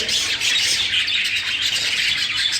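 Dense, continuous chirping and squawking from many budgerigars at a breeding setup, loud and close, with no pauses and no voices.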